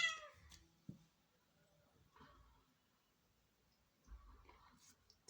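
A pet Sphynx cat named Doris gives a few short, faint meows indoors, with quiet pauses between the calls.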